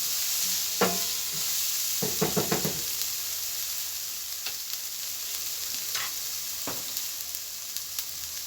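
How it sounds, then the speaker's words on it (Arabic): Vegetables sautéing briefly in a pan, a soft steady sizzle with scattered stirring knocks and scrapes of the utensil, fairly quiet and close, with no voices. "تاخد تشويحه بسيطه جدا جدا"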